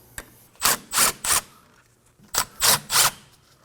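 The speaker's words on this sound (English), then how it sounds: "Using a Phillips head, we're gonna go ahead and remove both of the rotor screws." Two bursts of ratcheting clicks, each a quick tick followed by three short rasping pulls, as a Phillips screwdriver backs out the rear rotor screws on a 2016-2020 Kia Sorento 2.4L; close and fairly quiet with pauses between.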